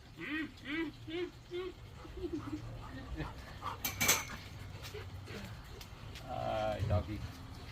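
A dog whimpers and yelps in short, high, wavering cries near the start and again toward the end, while a person talks to it, with some clattering in between.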